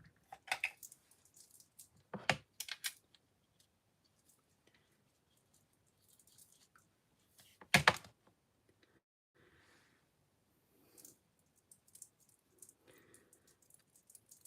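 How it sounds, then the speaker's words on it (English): A clicking bracelet during a makeup session gives sparse, brief rattling clicks at irregular intervals, close and light, with a few sharper bursts among near silence. "Doesn't the clicking bracelet annoy you?"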